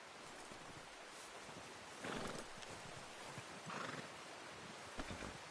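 A horse in the video game Red Dead Redemption 2 snorts and shifts with faint hoof sounds, two soft breathy bursts over a quiet outdoor ambience, no talk.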